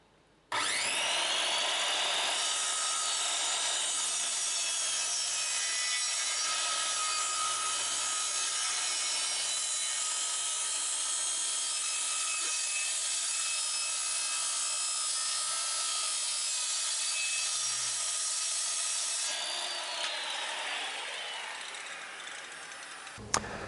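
Close and loud, a corded circular saw rips through wooden planks for a greenhouse build, holding one continuous high whining cut for about twenty seconds before the motor spins down.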